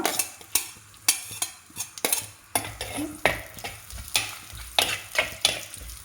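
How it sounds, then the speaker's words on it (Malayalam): Chopped onions sizzle as they fry in hot coconut oil in a pan for crab curry, with a steady hiss broken by repeated close scraping and clattering stirs of a utensil; no talking. "ചട്ടിയിലൊഴിച്ച വെളിച്ചെണ്ണ ചൂടായിട്ടുണ്ട് അതിലേക്ക് ഇനി നമ്മൾ അരിഞ്ഞ് വെച്ച സവാള മുഴുവൻ ചേർത്ത് കൊടുക്കുക"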